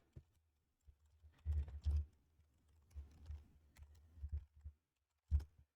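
Someone types on a computer keyboard while wearing a fursuit head during a live stream, giving irregular bursts of soft clicks and thumps with brief pauses between flurries, fairly quiet and with no talking over it.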